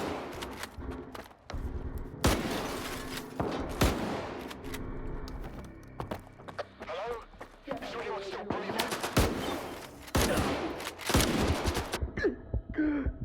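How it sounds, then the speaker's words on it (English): Shotgun blasts boom in S.T.A.L.K.E.R. 2, several sharp loud shots spaced irregularly among combat noise, with occasional breathing and grunts between them. "Shotguns are satisfying to use here, though."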